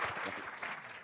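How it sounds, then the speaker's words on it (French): Audience applause for a participant attempting a task at a live event, a short burst of dense clapping at moderate volume lasting about a second. "Non, on peut l'applaudir quand même, il essaye."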